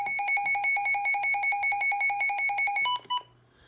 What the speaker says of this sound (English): Gotta love the classic sound of the WR100's alarm.